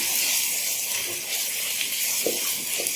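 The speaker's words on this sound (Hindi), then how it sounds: "तेज आंच पे हमने प्याज को फ्राई करना है।" Onions frying over high heat in a karahi for beef keema give off a loud, steady sizzling hiss that carries on unbroken throughout, with no talk.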